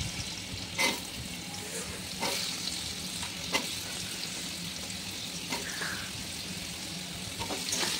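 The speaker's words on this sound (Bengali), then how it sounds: "আলু দিয়ে এবার আলুটা বেশ ভালো করে কড়া করে ভেজে নিলাম।" Potatoes fry in hot oil seasoned with five-spice and dried chili, a steady soft sizzle broken by occasional scraping stirs of a utensil in the pan.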